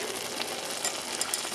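Mushrooms, some of them birch boletes, sizzle steadily in a hot frying pan as they are stirred, giving a dense, continuous crackle with small scraping bursts near the middle and end.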